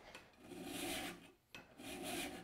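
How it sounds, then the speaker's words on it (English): Mill file rasping across a scraper edge clamped on a block, two long push strokes with a short pause between, close and fairly quiet. "So now I'll come back with a mill file and essentially rest in the mill file on the block. I can now file this at 90 degrees."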